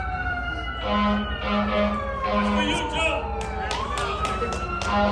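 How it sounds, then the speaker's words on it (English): An emergency vehicle siren passes an outdoor carpenters' rally at the Rhode Island State House, wailing in sweeping rising and falling tones under someone speaking to the crowd. "I try to fight through this siren here"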